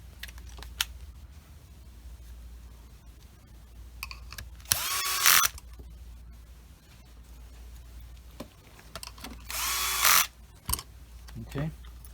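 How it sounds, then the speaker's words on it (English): Power drill driving screws into the back plate of a car stereo in a 2017–2019 Infiniti QX60, two short loud whirring bursts separated by quieter handling clicks and rustling. "let's just go ahead and put on some screws just to secure the back plate"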